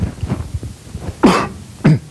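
During a business school lecture, a person coughs several times at close range. Small throaty rasps come first, then two sharper, louder barks near the end.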